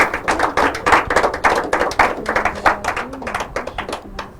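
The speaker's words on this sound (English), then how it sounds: "Well, if you want to clap, you can as well clap well." An audience at an inter-collegiate quiz and debate competition claps in a loud, uneven burst of close hand claps that gradually thins out toward the end.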